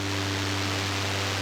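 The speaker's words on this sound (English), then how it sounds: "This one adds distortion and lo-fi effect," A synthesizer's fidelity effect adds distortion and lo-fi noise, a dense, steady hiss of broadband noise layered over a constant low droning tone, loud and unchanging with no talking.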